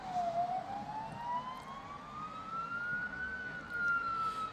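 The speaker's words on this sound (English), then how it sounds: "So I've taken this police siren sound and used it as a riser of some sorts" A police siren, sourced from freesound.org, slowed and stretched into a long, smooth rising wail used as a riser in a UK hip hop track made in Ableton Live 11, climbing gradually, sounding processed rather than live, over a faint low rumble.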